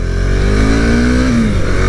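Husqvarna Svartpilen 701 motorcycle engine on a test ride, a loud continuous drone whose pitch climbs steadily as it revs, then eases off, with strong wind-like rumble throughout.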